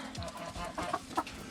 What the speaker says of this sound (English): Those two chickens are chickens that I bred here.